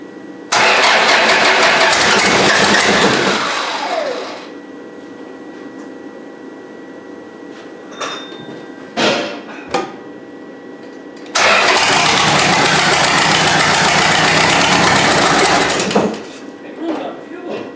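A diesel Isuzu 4BD1T turbo engine fitted in a Land Rover Defender cranks and fires into a loud, steady run, cuts out, and after a pause with a few clunks it starts again and runs loudly before stopping; a voice speaks briefly.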